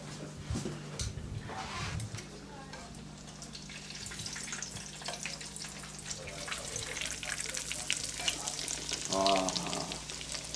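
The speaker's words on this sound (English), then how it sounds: "we're frying this in bacon fat" Chicken frying in bacon fat in a pan, a steady crackling sizzle running throughout with scattered pops and stirring clatter, close and fairly loud with no talking.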